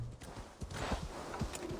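Horse hooves clip-clopping in the video game Assassin's Creed Valhalla, a rapid run of soft thuds at a trotting rhythm, fairly close and alone.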